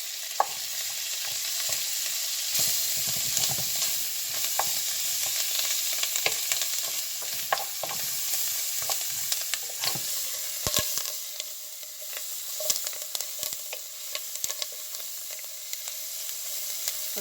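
Asparagus fries in butter in a pan with a steady, soft sizzle and crackle, broken by occasional clicks and scrapes of stirring, with no voices.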